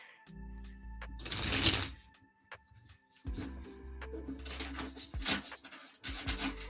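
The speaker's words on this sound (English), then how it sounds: "All right, quick shuffle here." Tarot cards shuffled by hand in a quick riffle, giving bursts of crisp papery flutter with sharp taps between them, close and moderately loud, with a pause in the middle before a second round.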